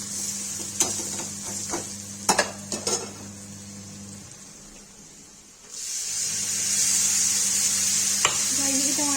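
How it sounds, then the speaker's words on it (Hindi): Red chilli and turmeric being stirred as they fry in a pan for a Kashmiri-style aubergine and tomato dish, with a steady close sizzle, scraping taps of a spoon against the pan, and a brief drop in the frying noise midway. "इसमें जाके के लाल मिर्च डाल देंगे, हल्दी डाल देंगे, इसको चला देंगे अच्छे से"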